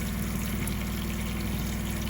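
Water running from the hot and cold shower faucet of a 2020 Airstream Basecamp trailer during winterizing, a steady, close rush of flow into a bucket with a low pump-like hum underneath, continuous and unchanging.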